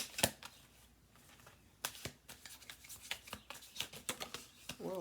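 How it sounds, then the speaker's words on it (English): Tarot cards being shuffled in a quiet indoor setting, a run of crisp riffling and slapping bursts with a few pauses, close and fairly soft, with no talk over them. "Two more shuffles."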